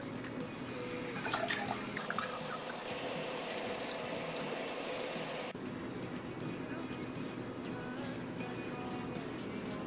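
Items being washed under a running tap, a steady broad rush of water with splashing that shifts partway through, continuous throughout with speech over it.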